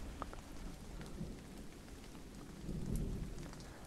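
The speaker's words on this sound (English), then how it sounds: "can you hear that thunder?" Steady rain falls outdoors while low thunder rumbles in the distance, swelling briefly near the end; no voices, a continuous wet hiss over a deep roll.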